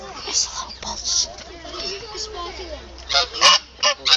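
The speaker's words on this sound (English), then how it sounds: "And then there's birds over here." Geese honking at a nature reserve park, several bursts in a row, loudest near the end, with faint murmuring voices in the background.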